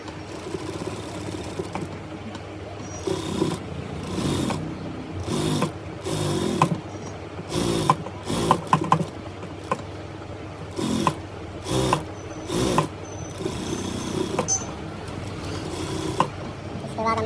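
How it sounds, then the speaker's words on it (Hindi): A sewing machine stitches a Patiala salwar in short, uneven bursts of rapid whirring and clatter, starting and stopping repeatedly with brief pauses between runs, close up. "इसके ऐसे ऐसे हम सिलाई लगा लेंगे।"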